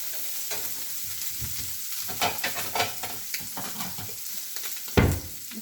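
Sausage fries in a skillet with a steady crackling sizzle, broken by scraping stirs and a sharper clatter near the end, close and continuous with no talk.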